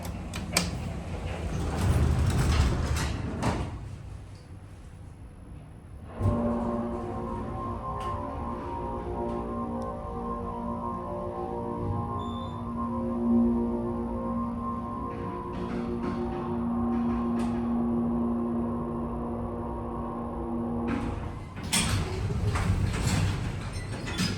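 A modernized Montgomery Kone hydraulic elevator runs with a steady humming motor drone for about fifteen seconds, framed by the rumble and slide of the doors opening and closing at either end.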